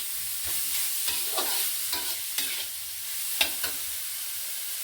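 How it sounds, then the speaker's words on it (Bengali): Grated carrot fries in ghee for carrot halwa, a continuous sizzle broken by a few sharp scraping stirs of the spoon, close and fairly loud, with no talking. "গ্রেট করা গাজর এবার ঢেলে দিচ্ছি। এটা তেল কিছু করবে না, এটা শুধু ঘি দিয়ে ভাজতে হবে।"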